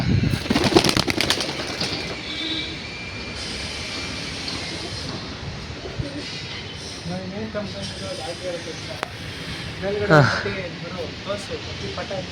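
Pigeons taking off and flapping at home open with a quick flurry of close wingbeats. Quieter rustling and bird calls follow, with faint voices in the background.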